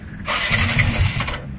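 A motorcycle starter cranking for about a second without catching, loud and close, with a whirring mechanical churn that stops abruptly and no engine firing.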